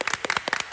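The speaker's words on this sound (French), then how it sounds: "applaudissement" A few people clap during a French documentary, a brief burst of sharp, separate hand claps in quick irregular rhythm, close and alone.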